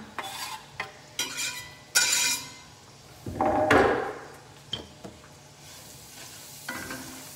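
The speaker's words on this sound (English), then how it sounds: "I've got my bacon grease and I'm gonna add probably a half of a diced onion. I'll let that saute up." Half a diced onion sautéing in bacon grease in a pan, with a soft continuous sizzle broken by several loud stirring and scraping strokes, close up and with no talk.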